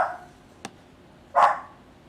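A pet dog barks indoors, two short sharp barks: a faint brief yip followed a moment later by a louder, fuller bark, with quiet room tone between.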